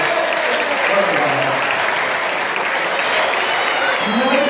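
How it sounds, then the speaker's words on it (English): Crowd at a sheep show gives a round of applause, a loud, dense and steady wall of clapping throughout with some voices blended in. "Give her a round of applause."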